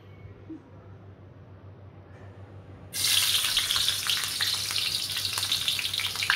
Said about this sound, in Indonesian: Itu dia minyak meletih-meletih guys.